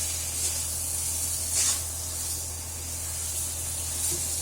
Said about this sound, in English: We'll stir fry the meat for about another 4 to 5 minutes